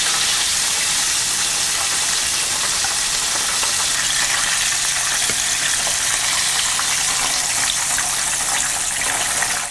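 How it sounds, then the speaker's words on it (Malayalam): Chicken pieces deep frying in hot oil, a loud, steady, dense sizzle and crackle that holds unbroken and close throughout, with no talking. "ഇതുപോലെ എല്ലാ ചിക്കനും ഡീപ് ഫ്രൈ ചെയ്തെടുക്കുക."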